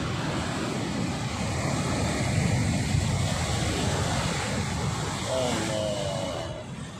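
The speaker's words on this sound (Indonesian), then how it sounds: "Deburan ombaknya. Ini langsung ke pantai lepas, laut lepas, pantai barat Sumatera, langsung berhadapan dengan Samudra Hindia." Surf crashing on the open west Sumatra coast facing the Indian Ocean, a steady, full roar of breaking waves with wind rumbling against the microphone throughout.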